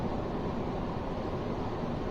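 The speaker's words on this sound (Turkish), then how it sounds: "rüzgar sesi geliyor evet" Constant low rushing wind noise inside a Volkswagen Jetta driving at about 116–120 km/h, a steady muffled roar with no change and no talking.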